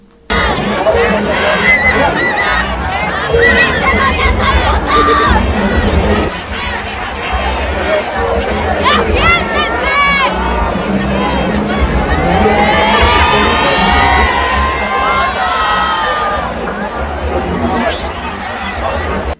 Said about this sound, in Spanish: la zona de cancha se invadió de gritos en los que pedían que sacaran a las personas que se habían metido a los lugares que no les correspondían